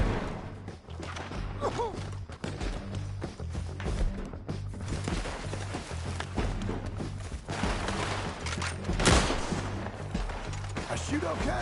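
Scattered gunshots and thumping impacts in a PS4 action game, irregular pops over a steady background music bed, moderately loud and continuous throughout.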